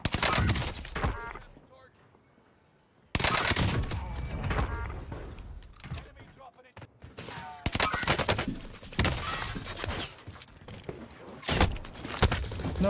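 Bren and MP40 gunfire in a shooter game, dense bursts of loud automatic fire close up with a brief lull near the start, then repeated rapid volleys continuing to the end.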